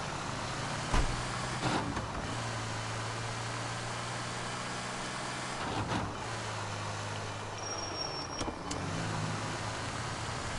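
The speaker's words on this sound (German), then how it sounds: "schau, das ist das gleiche Auto, das ich gerade fahre." A car engine in the video game L.A. Noire hums steadily at moderate volume while driving, with a few brief clunks and knocks along the way and no voices over it.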